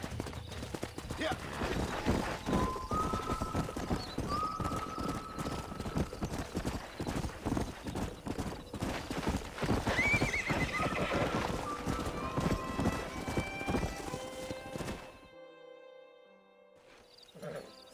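Horses in the video game Red Dead Redemption gallop with steady, fast clip-clopping hooves and loud neighs and whinnies, before the sound drops away to quiet near the end.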